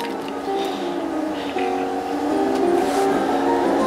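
Cartoon tractor engine from the Hippo Seasons app game, a steady motor drone with a whining, rising tone that holds throughout at moderate loudness, with no talking.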